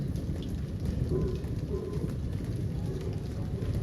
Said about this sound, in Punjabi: ਕੰਨ ਪੱਤਿਆਂ ਤੇ ਕਿਣਮਿਣ ਪੈਂਦੀ ਕਣੀਆਂ ਦੀ ਸਣਕਣ